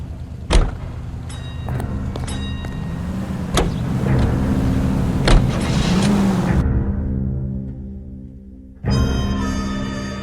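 A car engine in the game LA Noire starts up and runs, its steady motor hum and low drone carrying through most of the stretch, with a few sharp door-like clunks and a brief break before the engine tone resumes.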